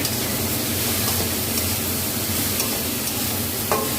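Food in a frying pan, with salt and chopped spring onion just added, being stirred: a steady sizzle and hiss runs throughout under faint scraping, with a small clack near the end.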